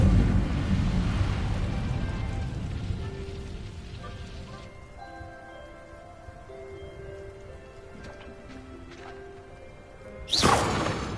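Incendio fire spell cast in Hogwarts Legacy, a loud crackling whoosh of flame that fades into a magical shimmering tone, then a sharp burst near the end.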